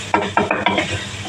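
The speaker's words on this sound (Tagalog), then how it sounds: "Lagay natin para magkalasa yung ating ginisang sibuyas, bawang, luya sa kanya." Onion, garlic and ginger sautéed for a meat curry are stirred in a pan, giving a few close, loud scraping strokes in quick rhythm over a light sizzle.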